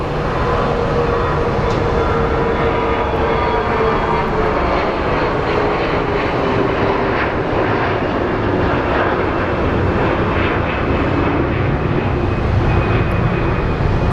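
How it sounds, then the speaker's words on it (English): An Airbus A321neo jet rolls out at Phoenix Sky Harbor International Airport, its engines producing a loud, continuous roar with a sustained whine layered on top, steady and close for the whole stretch, with no one talking. "So the A321neo is rolling out."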